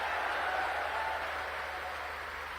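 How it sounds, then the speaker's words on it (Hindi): Sustained applause from a large audience at a rural employment assistants' convention in Madhya Pradesh, steady clapping filling the whole moment without pause. "उतने ही जोरदार ताली श्रीमान अमित शाह जी के लिए भी"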